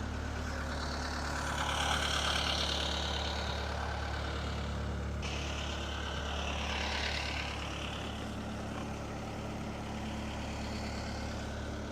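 An engine idles steadily after a cold start with a continuous low rumble and even hum, unbroken and without any talking.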